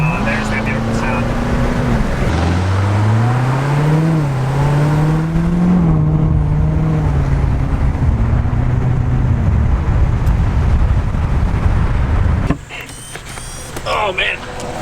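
A twin-turbo Cummins diesel truck engine pulls hard and loud, its drone rising in pitch under acceleration before cutting off abruptly near the end, with voices talking over the engine.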